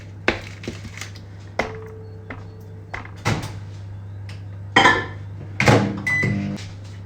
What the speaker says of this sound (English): Melted our butter in the microwave.